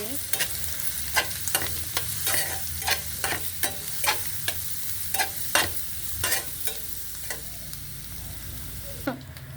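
Boiled eggs frying in a pan with salt and chili powder, a steady sizzle under repeated sharp scrapes and clacks of a spatula stirring at an uneven rhythm, close and fairly loud with no talking.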